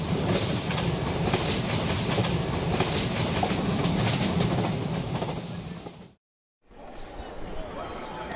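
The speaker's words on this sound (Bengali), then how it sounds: "পরদিন খুব ভোরে ট্রেন এসে শিমুলতলায় থামলে নেমে পড়লাম আমরা।" A train runs on rails with a loud, steady rumbling roar and rhythmic clatter, close and continuous, then a brief cut and a quieter rolling continuation.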